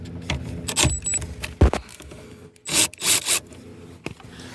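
Metallic ratcheting and scraping come from a wrench loosening the 10 mm battery terminal clamp on a Hemi 5.7 V8 Jeep Grand Cherokee. Close, sharp clicks and short bursts of rubbing are broken by brief pauses.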